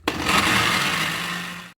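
A blender grinds a hair mask mixture in one short, loud, even burst lasting under two seconds, stopping abruptly.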